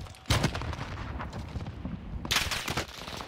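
Sniper rifle shots in the Warzone video game, two sharp loud cracks spaced about two seconds apart over a busy game background, with no talk.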